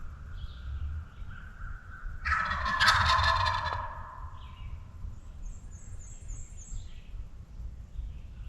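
A wild turkey gobbles in spring woods, one loud rattling gobble at moderate distance, with fainter calls before and after against a quiet outdoor background.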